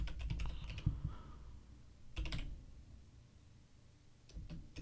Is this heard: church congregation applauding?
no